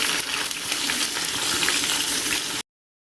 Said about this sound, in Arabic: واول ما نشوف الزيت بدا يقدح بالشكل ده هنبدا نسمي الله وننزل البصل